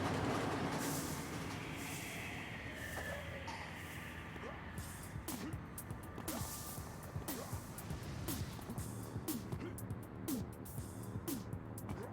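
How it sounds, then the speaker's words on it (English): A video game subway train rumbles steadily along the tracks with a continuous low roar and rhythmic clacking, underneath faint background noise. "The tiniest subway ever."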